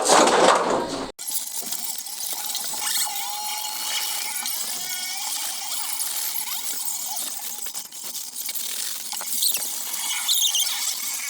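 A thermocol sheet is cut for a homemade room cooler, with continuous squeaky, scraping squeals up close after a brief loud burst at the start.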